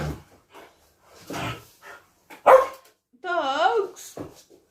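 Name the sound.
dogs barking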